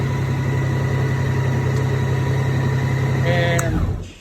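A 2018 Honda Gold Wing DCT motorcycle engine runs close by with a steady, even hum, then is switched off and falls quiet at the very end.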